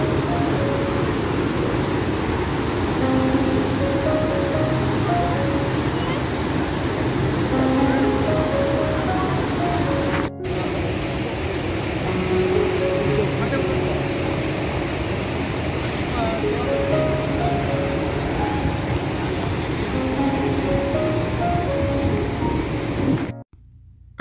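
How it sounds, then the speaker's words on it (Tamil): Niagara's American Falls roar as a broad, constant rushing of heavy water, steady and enveloping throughout, with people's voices talking beneath the thunder. "இப்போ நீங்கள் பார்த்துட்ருக்கிறது பார்த்திங்கன்னா அமெரிக்கன் ஃபால்ஸு"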